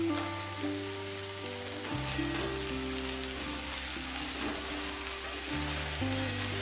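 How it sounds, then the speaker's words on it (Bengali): Hyacinth beans fry in a pan after salt is added, giving a steady, close sizzle with occasional stirring sounds. Background music plays throughout. "লবণ দেওয়ার পর বেশ কিছুক্ষণ নাড়াচাড়া করে ভেজে নেব।"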